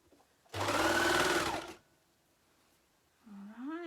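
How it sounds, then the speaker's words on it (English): A sewing machine running a zigzag stitch along the seam of men's boxers, one loud close burst of about a second of rapid whirring, then quiet before a voice starts. "Then we'll come and stitch that with the zigzag"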